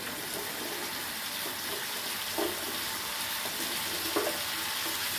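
Drumsticks fry in a pan with softened tomato for a drumstick and mango curry, giving a steady bright sizzle with occasional stirring scrapes.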